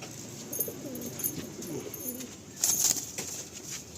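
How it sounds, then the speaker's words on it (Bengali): A male Madrasi pigeon coos in low, rolling murmurs close by, with a brief louder rustle partway through and a steady faint hiss behind. "এটা হচ্ছে নর পায়রা।"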